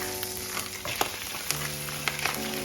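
Garlic and home-grown garden vegetables sauté in a hot stir fry, giving a steady close sizzle broken by sharp, scattered pops as bits burst in the oil.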